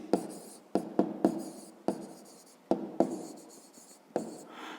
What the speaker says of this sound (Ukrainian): Пишемо нерівність.